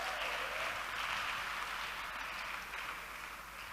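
Audience applause, a steady wash of many hands clapping at moderate distance that holds for a few seconds and then eases slightly toward the end.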